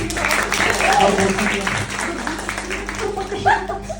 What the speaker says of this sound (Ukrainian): Оплески, панове.